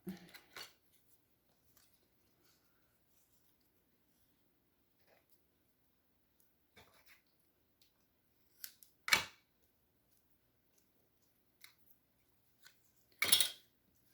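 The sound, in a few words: scissors snipping red fabric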